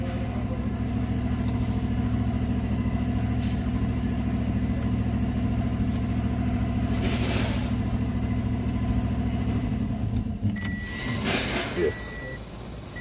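A 2012 Toyota Camry's blower motor runs with a steady, even hum and whir close by, a person speaking over it before a few clicks and knocks near the end.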